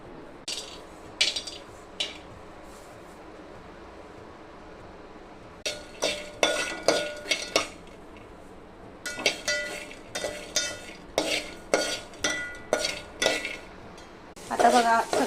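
Peanuts, dal, cumin, curry leaves, garlic, turmeric and salt dry-roast in a pan, a metal spoon scraping and clinking against it in quick bursts with soft quiet gaps between.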